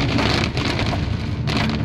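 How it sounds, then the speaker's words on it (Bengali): Heavy torrential rain pours down in the dense Amboli Ghat jungle, a loud, close, unbroken roar of downpour with no voices. "আর যেমন তেমন বৃষ্টি না, একেবারে মুষলধারে বৃষ্টি।"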